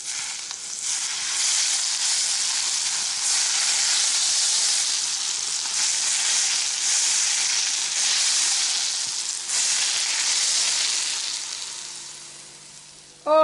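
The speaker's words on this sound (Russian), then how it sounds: "Наливаю раскаленное масло." Hot oil poured over vegetables for Korean-style tomatoes hisses and crackles loudly, a dense sizzle that swells and fades in waves before tapering off at the end.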